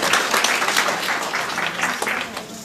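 Brisk applause from an audience at a lecture, dense clapping that holds steady for a few seconds.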